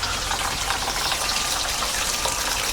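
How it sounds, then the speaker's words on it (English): Steady rushing of running water, a continuous broadband gush close by with no voices. "Has some running water."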